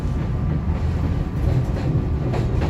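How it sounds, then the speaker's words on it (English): A SEPTA Regional Rail train on the old Pennsylvania Railroad Chestnut Hill West line, electrified in 1918, runs toward 30th Street Station with a steady onboard rumble and faint wheel clatter throughout. "We're on a Chestnut Hill West bound train"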